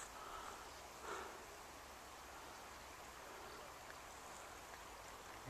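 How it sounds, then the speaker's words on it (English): Light rain begins falling on a walking path by Rydal Water in the Lake District, a faint, steady soft hiss with no voices. "It's starting to rain."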